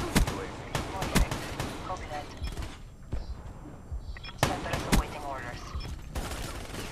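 Repeated shotgun blasts in Black Ops 3 come as sharp, loud shots in quick clusters, broken by a quieter lull in the middle, with other gunfire and game effects mixed in.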